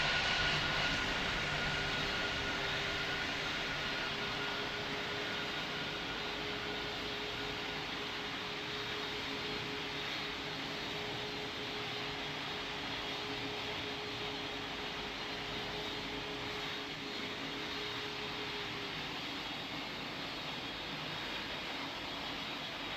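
Airplane taking off in the video game Pilot Training Flight Simulator, a steady loud jet engine roar with broadband rushing noise sustained throughout, no voices.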